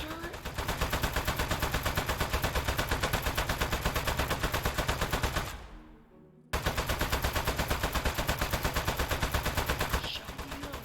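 Rapid automatic turret fire in the video game Desk Job comes as a steady stream of loud, evenly spaced shots. A brief gap interrupts it about halfway through before the burst resumes at the same pace.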